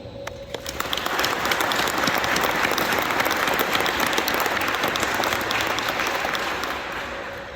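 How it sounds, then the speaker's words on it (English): An audience at a Marine Corps retirement ceremony breaks into sustained applause, a dense, even wash of clapping that swells within a second, holds steady, and only slightly eases toward the end. "let's give a round of applause for the Marines that are not only ceremony participants, but for those assisting in making this event possible"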